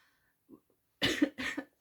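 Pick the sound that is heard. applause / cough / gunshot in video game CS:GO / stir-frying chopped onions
cough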